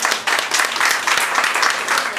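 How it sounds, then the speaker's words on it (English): Community meeting audience applauding its leaders, a loud, close round of many hands clapping in uneven surges, briefly dipping near the start before continuing. "can I have everyone join me in a round of applause for our leaders here?"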